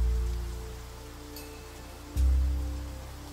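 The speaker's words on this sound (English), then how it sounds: "And it rains again." Steady soft rain in the game Niche, a gentle hiss of drops over a low, pulsing musical drone that swells again partway through, with no one talking.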